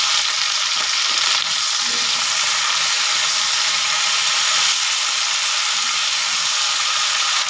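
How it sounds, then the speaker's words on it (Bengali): Broad beans fry in a pan of hot oil with a loud, dense, continuous sizzle that stays even from start to finish, with no one speaking. "এই তেলের মধ্যে দিয়ে সিমগুলোকেও ভেজে নেব"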